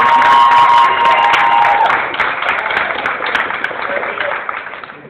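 An audience at a Campaign for the American Dream event applauds and cheers, loud crowd clapping with a whistle and shouts at the start, gradually easing into steadier, softer clapping over several seconds.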